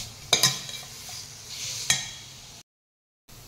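Chopped dry fruits (dried dates, dates, raisins) and date powder stirred in hot ghee: a few sharp scraping clicks of the spoon over a steady close sizzle, then a brief silent gap before the frying resumes.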